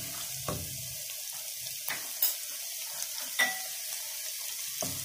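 Cumin seeds sizzling in hot oil in a pan for kadhi pakora, a steady soft frying hiss broken by a few faint clicks and stirs, quiet and close.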